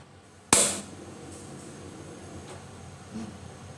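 A gas burner is switched on and lit to boil fermented fish sauce (pla ra): one sharp, loud ignition click and a rush of flame, then a low, steady hiss of burning gas with no talking.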